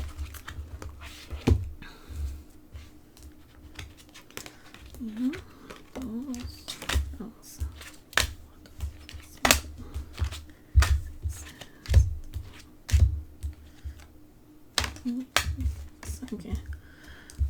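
Oracle and angel cards being shuffled, with repeated sharp riffling clicks and soft card slaps in an irregular rhythm close by, while a person talks intermittently.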